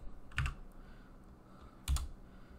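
Arrow keys pressed on a computer keyboard, two separate clusters of close, fairly loud key thumps and clicks with quiet gaps between them.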